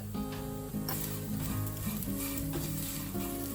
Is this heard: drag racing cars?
no